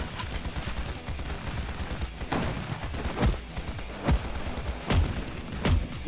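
Gunfire in the video game AI: The Somnium Files: a string of sharp shots spaced roughly a second apart, each a distinct punchy crack over a busy, rumbling background.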